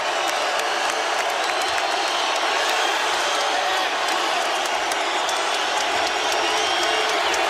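A dense arena crowd at a San Diego State vs New Mexico college basketball game roars and cheers continuously, loud and sustained, with faint shouts and squeaks poking through the wash of noise.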